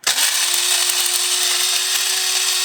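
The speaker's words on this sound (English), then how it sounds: "You just push the button and it grinds your beans." A Gevi espresso machine's built-in grinder grinding coffee beans finely, a loud steady whirring drone that starts abruptly and runs continuously at close range, with no voices.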